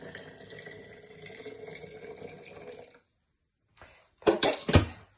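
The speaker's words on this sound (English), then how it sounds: "I'm pouring the water all over the counter" Water pours steadily from a jug across a kitchen counter while making ceremonial cacao, a continuous splashing stream that stops abruptly, followed after a pause by a few louder clattering knocks.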